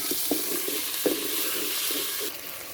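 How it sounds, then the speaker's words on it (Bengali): Spices with ginger and garlic paste fry in oil with a bright, continuous sizzle, broken by several soft scraping stirs close by. "মশলাগুলো ভালোভাবে কষিয়ে নিচ্ছে আদা বাটা রসুন বাটা"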